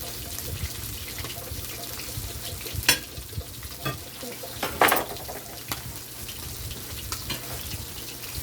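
Sprats (herring) fry in a pan with a steady, dense sizzle, broken by a few sharper scrapes and clatters as the small fish are stirred and flipped until crispy.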